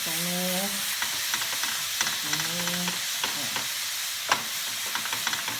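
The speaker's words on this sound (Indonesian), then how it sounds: "Kita tumis bawang putih sampai beraroma, harumnya tuh keluar." Garlic sautéing in a pan for a noodle dish: a steady bright sizzle with intermittent scraping stirs and clinks, close and continuous, with a few short tonal beeps partway through.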